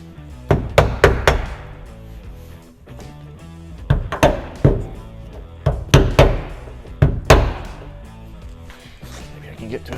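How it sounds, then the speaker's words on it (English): A hammer knocks stainless windshield trim off a GM A-body car, with sharp, irregular metallic taps arriving in small bursts at close range and brief pauses between strikes. "It helps if I can hit the hammer."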